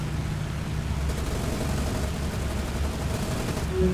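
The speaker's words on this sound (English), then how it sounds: "Look at that, just the sheer volume of firepower they've concentrated onto these Wildcats" In the War on the Sea naval combat game, B-17 bombers' defensive gunners pour sustained fire at Wildcat fighters: a dense, continuous roar of overlapping gunfire with no break, steady and loud throughout.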